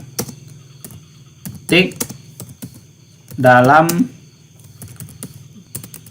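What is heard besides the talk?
typing on a computer keyboard in Microsoft Word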